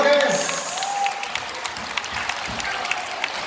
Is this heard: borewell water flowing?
no